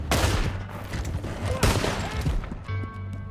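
Close, loud gunfire in Red Dead Redemption 2, a rapid burst of overlapping shots at the start and another heavy volley midway, with a low engine-like hum underneath and quieter shots trailing off at the end.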